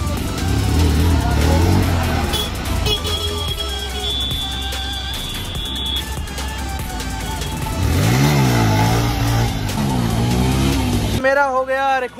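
A Pulsar 125 motorcycle engine revs hard and rises and falls repeatedly during wheelie attempts, loud and close, with voices audible underneath.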